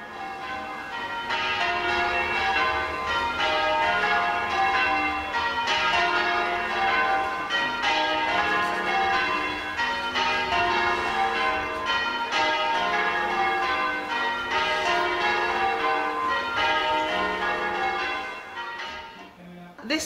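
An old church bell dated 1624 rings in a village belfry, its clapper pushed by hand, giving sustained overlapping metallic tones that fill the space steadily for about eighteen seconds before fading out.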